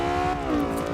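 A car engine in the racing game Forza Motorsport 5 drones and revs steadily, its harmonic tone sliding slightly in pitch as the engine note shifts, loud and close with no talking.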